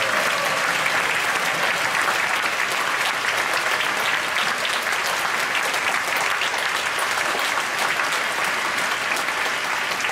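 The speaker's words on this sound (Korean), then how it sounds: "우리 청년들을 위해서 박수 한번 치겠습니다" Sustained audience applause for church youth during a Friday night worship service in a Korean church, a dense, steady wash of clapping from a large congregation lasting throughout, with no talk over it.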